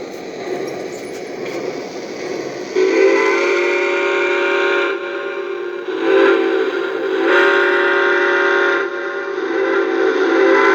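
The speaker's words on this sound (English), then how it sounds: "I'm doing that from the whistle button on a CW80" Model train steam whistle sounded from the whistle button on a Lionel CW80 controller. Several long, steady, reedy blasts sound up close, with brief pauses and small swells in strength between them.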